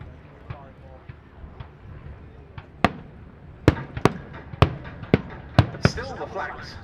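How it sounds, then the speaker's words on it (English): Pyrotechnics at the Duxford D-Day 80 airshow simulate German flak fire against Piper L-4 Grasshopper Cubs, a run of sharp explosive bangs, irregular and growing more frequent, over a low background rumble while a commentator speaks. "the German flak gunners have now spotted the Cubs and opened fire"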